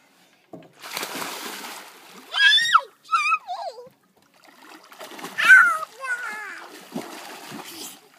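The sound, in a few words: child swimming, splashing in water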